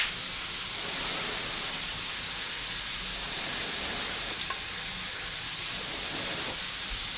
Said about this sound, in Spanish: Y me empezó a hervir.